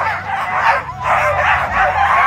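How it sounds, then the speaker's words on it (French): Excited sled dog teams lined up at a race start in Bessans yelp and bark in a loud, dense chorus of overlapping bursts that surge and dip. "lorsque tous les chiens sont comme ceci en ligne, prêts à partir, eh bien, il y a une surexcitation qui est en train de se dérouler"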